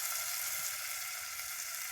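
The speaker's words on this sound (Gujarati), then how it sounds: "કેસરિયા પાકનો તો વઘાર મારી દીધો છે" Hot oil tempering for kesariya paak sizzling in a pan, a steady hissing crackle with no voices.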